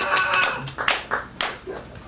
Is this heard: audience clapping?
yes